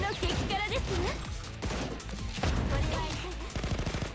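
A turret boss in the video game Blue Archive fires in rapid bursts during a Valentine challenge stage. The gunfire is mixed with busy game voices and effects, and a fast rattling volley comes at the end.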